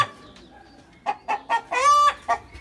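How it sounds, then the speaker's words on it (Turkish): A rooster crows nearby in a rising series of short clucking notes ending in a drawn-out call, with other birds faintly in the background, among ornamental pigeons. "Beş tane horoz var o bağıranla."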